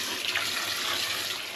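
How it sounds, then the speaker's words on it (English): Tap water runs steadily and loudly into a sink to cover and soak windfall apples for home-brewed cider, a continuous close rushing splash with no voices. "I'm now just going to cover them in water and let them soak for 10 minutes"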